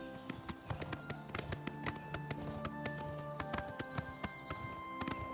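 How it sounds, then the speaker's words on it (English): A horse's hooves clip-clop in the video game Oblivion Remastered, a steady stream of sharp, close taps in a brisk trotting rhythm over a faint background hum. "I'm gonna hop off the horse here."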